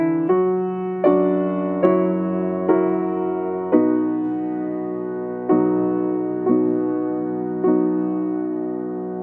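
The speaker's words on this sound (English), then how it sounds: "I was so struck by the resonance of the piano postlude" Solo piano plays a slow postlude closing a song cycle, with resonant chords struck one after another at a measured pace, each ringing and decaying before the next, sounding close and alone.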